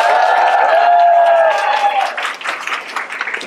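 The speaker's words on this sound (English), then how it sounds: "So please give an applause for these participants." Applause from an audience for participants in a back-to-back battle competition, a dense wash of clapping that builds and carries on for several seconds, loud and sustained, with a few tonal notes ringing underneath early on.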